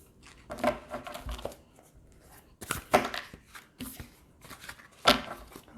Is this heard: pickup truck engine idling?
no